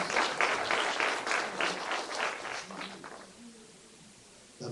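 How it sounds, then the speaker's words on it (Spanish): An audience at a church sermon claps for a graduate: a burst of dense clapping that fades after about three seconds, leaving a quieter stretch with a faint voice. "Un aplauso al que se graduó."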